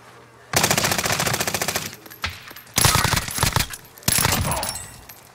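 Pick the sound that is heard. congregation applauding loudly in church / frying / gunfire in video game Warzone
gunfire in video game Warzone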